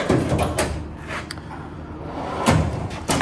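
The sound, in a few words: tool box drawer opening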